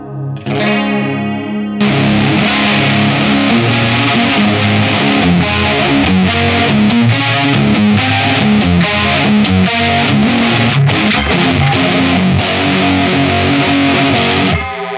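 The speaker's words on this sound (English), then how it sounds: "now we're running the modulation into the distortion" Old Blood Noise Endeavors Excess V2 pedal with its modulation routed into the distortion, a dense, loud, continuous stream of wobbling distorted guitar chords that fills the whole stretch after a brief cleaner opening note.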